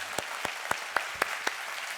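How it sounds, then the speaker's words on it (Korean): A church congregation in Korea claps in a slow, sparse rhythm, six distinct claps spaced evenly about a quarter second apart, fairly faint with no talking over them. "하나님께 박수가 올리겠습니다"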